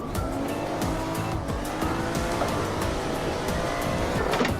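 Toyota JZX100 Mark II drifting in the Assetto Corsa sim racing game, with a continuous loud engine drone and sustained tire squeal swelling and fading throughout, plus a few short skid bursts, no voices.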